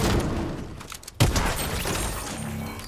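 Video game gunfire during a team match: a sharp, loud burst of shots stands out near the middle, with dense noisy game action before and after it.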